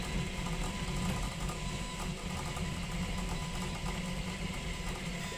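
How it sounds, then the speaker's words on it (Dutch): An Ortur Laser Master 2 15W laser engraver works on a mirror, giving a steady, continuous mechanical hum with a ventilation fan droning alongside, moderately loud and unbroken throughout. "En de laser loopt."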